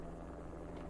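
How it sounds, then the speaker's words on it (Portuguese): A helicopter in the PS2 video game Max Payne gives a steady, low droning rotor rumble that holds evenly throughout, with no voices over it. "Um helicóptero."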